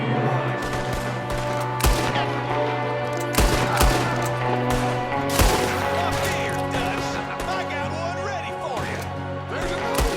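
Repeated gunfire rings out during a Western shootout in Red Dead Redemption 2, with an enemy shooting from a window. Sharp shots come in scattered bursts over a constant mix of game music and ambience, and voices talk underneath.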